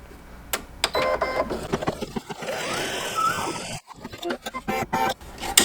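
A home embroidery machine stitches triangle appliqué hearts for a Kimberbell Cuties topper in a 5x7 hoop, giving a rapid, rhythmic mechanical clatter with a brief quieter break partway through.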